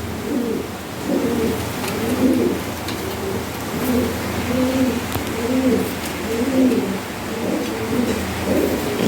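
Pigeons coo at a pigeon market in soft, low, repeated throaty calls, several overlapping in a steady rhythm against faint background noise.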